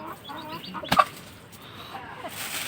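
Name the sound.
laying hens clucking on a farm at night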